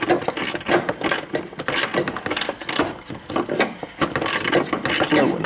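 Ratchet snugging down the horn bracket bolt on a BMW E46 3 Series. Dense, rapid clicking of the pawl repeats in close bursts throughout.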